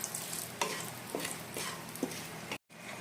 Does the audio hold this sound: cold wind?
no